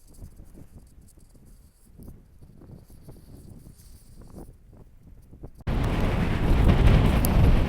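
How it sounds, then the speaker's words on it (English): Quiet rustling outdoors in the Scottish mountains with faint crickets, then a sudden loud gust of wind blasting the microphone in a heavy, continuous rumble. "It's pretty windy."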